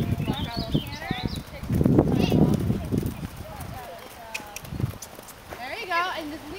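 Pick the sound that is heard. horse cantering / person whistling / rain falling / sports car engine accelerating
horse cantering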